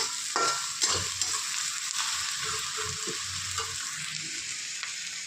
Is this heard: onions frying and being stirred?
yes